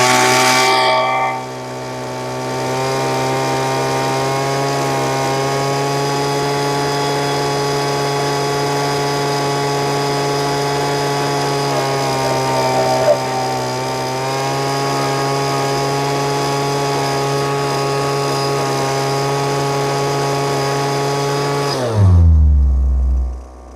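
A Lesco leaf blower's small two-stroke engine held at a steady high rev while its carburetor is tuned, loud and continuous for about twenty seconds before dropping back toward idle at the end; no talking.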